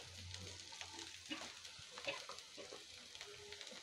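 Chopped onion sizzles in a pan for cabbage Manchurian. The frying is soft and close, with light crackles and occasional stirring scrapes.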